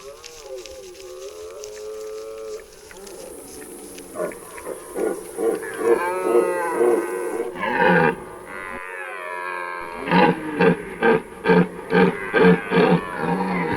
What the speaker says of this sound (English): a powerful roar of the red deer stag will only signify its vitality